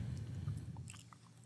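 Crunchy chips eaten close up, a brief burst of biting and chewing crunches over a low, quiet background.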